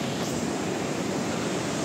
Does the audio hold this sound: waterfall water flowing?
yes